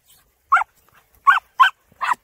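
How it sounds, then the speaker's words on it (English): Terrier barking during a rat hunt among bales, four sharp close barks spaced apart and loud over an otherwise quiet background. "watch that dog"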